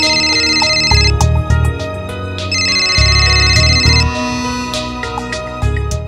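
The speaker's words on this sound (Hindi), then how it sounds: "फिर से सुंदर जी का फोन" Loud, close phone ringtone: bright electronic tone bursts alternating with a bouncy melodic jingle, repeating in a regular pattern with no voices.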